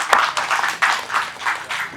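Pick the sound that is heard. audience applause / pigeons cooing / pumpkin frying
audience applause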